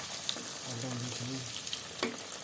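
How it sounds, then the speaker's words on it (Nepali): A veggie burger patty fries in a pan, giving a steady sizzle and crackle with brief scraping and shuffling as it is flipped over. "पल्टाउँदैछौँ प्याटीलाई"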